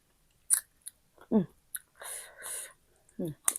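Someone chews a crunchy, spicy pounded sea lotus stem salad up close, with a few distinct crisp bites and crunches between short soft mouth sounds and quiet vocal noises.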